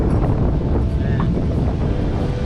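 Waves on a fairly large lake washing against the shore under steady wind, a continuous loud rushing roar with heavy wind buffeting on the microphone.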